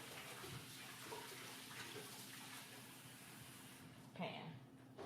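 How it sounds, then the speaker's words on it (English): Tap water runs into a kitchen sink to fill a pan, a steady broadband hiss that continues throughout, with a brief louder splash or clatter near the end and a faint hum underneath. "I'm running water in this sink to fill up this"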